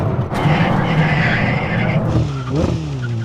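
Under hard braking in a Ferrari SF90 XX versus Koenigsegg Regera contest, supercar tires squeal and skid loudly and close by, with a wavering screech over engine noise that rises again near the end.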